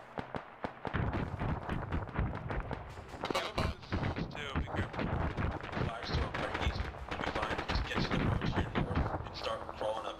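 Rapid bursts of gunfire in the military shooter game Arma 3 during a PvP infantry battle, sharp repeated cracks and thumps continuing throughout under voices talking over team radio.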